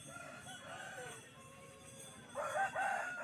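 Roosters crow at a busy village poultry market in West Bengal, one drawn-out call followed by a louder, nearer crow toward the end over a low background murmur.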